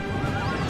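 Cavalry horses in the Third Age Divide and Conquer strategy game give a loud, close neigh over a dense rumble of hooves galloping together, forming one brief, busy burst with no talk.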